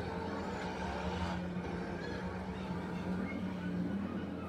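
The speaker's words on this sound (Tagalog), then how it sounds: "Sorry, maingay. Tricycle dito ha." A motorized tricycle drones past on a nearby street, a steady low engine rumble that stays loud throughout with no clear rise or fade.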